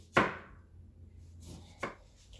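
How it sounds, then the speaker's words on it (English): A knife cuts a lemon into slices on a board, giving two crisp chops about a second and a half apart in an otherwise quiet kitchen, for roasted lemon chicken. "Now we're going to do some slices of lemon as well."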